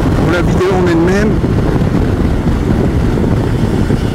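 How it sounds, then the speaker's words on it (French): Strong wind buffets the microphone while riding a 2021 Yamaha Niken GT three-wheeled motorcycle, a loud, constant low roar; a brief voice can be heard near the start. "Vous le voyez, il y a du vent."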